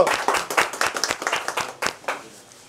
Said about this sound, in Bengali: জোরে হাততালি গাজল ব্রাঞ্চের জন্য